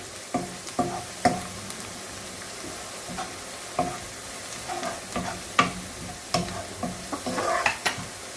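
A frying pan of browning ingredients for a turkey dish, crackling and sizzling with repeated sharp scrapes and taps of a utensil stirring against the pan, close up and without talking.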